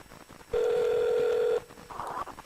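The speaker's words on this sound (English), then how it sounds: "And the phone is ringing." A phone call rings out on the line as a single steady ringback tone lasting about a second, loud and clear against quiet background, then a soft faint noise after it.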